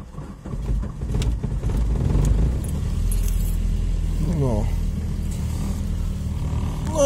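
An Opel Calibra's engine struggles to start in freezing cold, with keys jangling and a cranking churn that catches into a low running rumble, all beneath someone talking close by.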